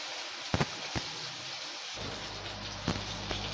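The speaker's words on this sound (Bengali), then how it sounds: "এবার আমি যে মাছগুলো মেখে নিয়েছি একে একে আমি ভেজে নেব।" Rui fish sizzle in hot mustard oil in a pan, giving a continuous hiss. Occasional sharp pops and crackles cut through, and a low rumble joins partway through.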